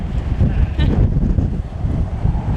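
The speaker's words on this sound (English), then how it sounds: "It's gone really, really windy." Steady, rumbling wind buffeting the microphone on a street in Lisbon, a continuous low roar with no clear breaks, drowning out other sounds.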